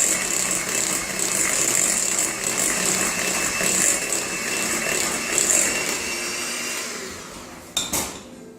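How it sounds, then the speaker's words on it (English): An electric mixer whirs steadily and loudly through cheesecake batter at close range, holding an even motor drone for several seconds before winding down and stopping with a couple of clunks at the end. "just mix this up until it's just smooth"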